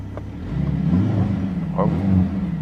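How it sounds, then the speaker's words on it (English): Mercedes-AMG GLC63 exhaust blended with its sound actuator, a deep low rumble that swells as the engine revs, heard close and without speech. "There you can also hear how the sound actuator plays together with the real exhaust."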